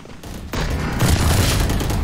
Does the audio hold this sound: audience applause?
no